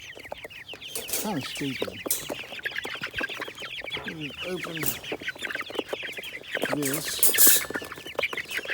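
Backyard hens cluck steadily and overlap in a busy, close flock chorus, with someone speaking briefly over them.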